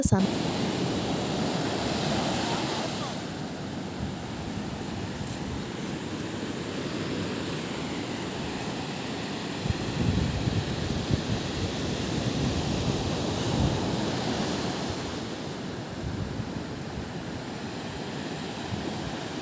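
Sea waves roll in a continuous rushing wash, swelling and easing, with wind noise and faint voices in the background.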